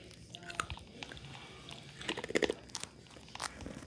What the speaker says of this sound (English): Wait, what are you crunching on?